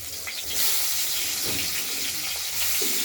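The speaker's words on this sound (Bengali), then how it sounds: "বেগুনটা আমরা কড়াইতে তেল দিয়ে ভেজে নিচ্ছি হালকা" Eggplant pieces fry lightly in oil in a wok, ahead of a hilsa curry with potatoes, making a continuous close hiss and sizzle that rises slightly and then stays even.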